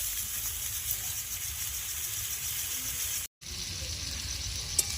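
Spice masala sizzles as it is sautéed with a splash of water in a pan for a Bengali winter vegetable khichdi, a steady close hiss running throughout with a brief dropout near the middle.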